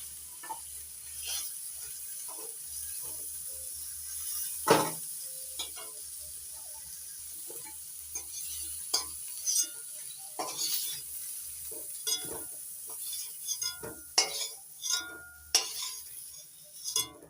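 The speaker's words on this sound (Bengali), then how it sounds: "এঁচুড়গুলো মিডিয়াম আঁচে 2 মিনিট নাড়াচাড়া করে ভেজে নিয়েছি হালকা করে" Young jackfruit pieces are stir-fried lightly in a pan over medium heat, with a steady close sizzle and repeated spatula scrapes and clinks against the metal throughout.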